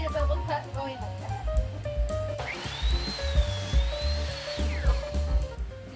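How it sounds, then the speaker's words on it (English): A power saw with the blade tilted makes a bevel cut through a board for a behind-the-couch table, a steady rising whine lasting a couple of seconds over a low motor hum, with speech around it. "I need a bevel cut going like that."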